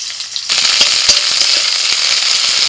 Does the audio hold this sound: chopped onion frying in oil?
yes